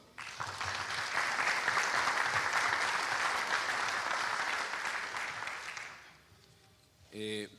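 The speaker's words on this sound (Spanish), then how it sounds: "a quien pido un fuerte aplauso" An audience applauds a speaker at a formal address with a full, sustained clapping that fades out after about six seconds, followed by a brief loud tone.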